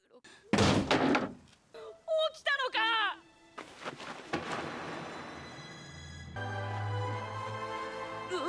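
A door is slammed hard: one heavy, sharp thud, followed by voices and music from an anime episode.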